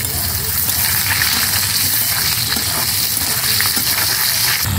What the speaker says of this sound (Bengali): প্রথমে আমি একটু আলুগুলোকে হালকা করে ভেজে নেব।